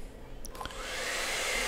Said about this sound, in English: got the hairdryer. I need to dry that spot